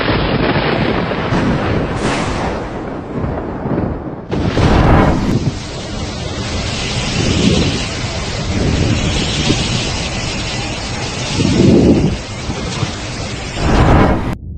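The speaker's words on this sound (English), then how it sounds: "This volcanic eruption occurred in the Philippines, where the rise of lava upon contact with the lake's water triggered a violent explosion." A volcanic eruption in the Philippines where lava meets lake water, heard as a loud, continuous roaring rumble with heavy wind-like noise and several deeper booming surges.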